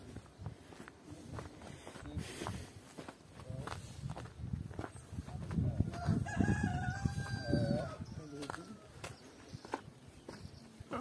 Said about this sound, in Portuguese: Ô, Benal, hoje o galo tá cantando, que tá danado